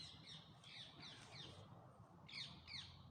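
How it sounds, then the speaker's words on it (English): Bird calls sound near an old church tower, a few harsh, crow-like squawks in two clusters, fairly faint over a low background hum. "there's a bird going off. That's going to be picked up in my recording"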